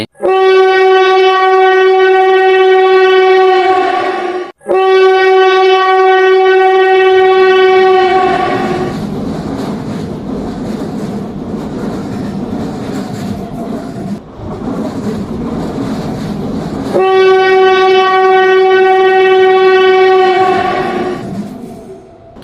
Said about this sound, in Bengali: শহর থেকে যখন সে ট্রেনে ওঠে